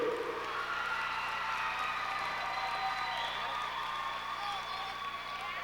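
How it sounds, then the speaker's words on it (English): A crowd applauds at a junior college national championship game, a dense, steady wash of clapping with scattered cheers that keeps its level for several seconds. "Let's have a big round of applause again for the cleanest show in town"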